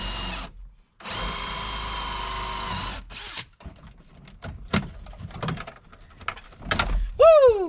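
A large power drill whines steadily for about two seconds while enlarging a 3/4 inch hole in a garage, followed by scattered clunks and handling noises.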